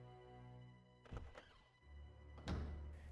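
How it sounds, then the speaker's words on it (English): Doors opening and closing in the RuneScape 3 video game, two distinct thunking clunks about a second and a half apart, crisp and alone against a faint ambient hum. "Now go through the northern door on the west wall."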